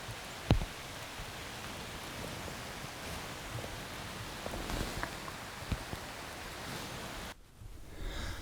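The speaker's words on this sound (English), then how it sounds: "One thing about the rain here, makes things really quiet" Steady rain falls in an Oregon forest, a dense soft hiss of drops on leaves and brush with a few sharper nearby ticks, fading abruptly near the end.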